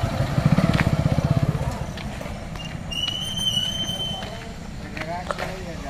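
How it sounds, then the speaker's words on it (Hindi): A motorcycle pulls up close by, its engine thumping in a steady rhythmic pulse that settles into a lower rumble while someone talks over it. "तो देख रहे हो गाइस, ये मेरा बाइक आ गया"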